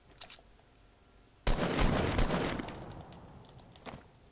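A burst of video game gunfire in a base fight, opening with a couple of faint distant shots, then a loud sustained volley at about one and a half seconds that rattles on and fades, with one more shot near the end.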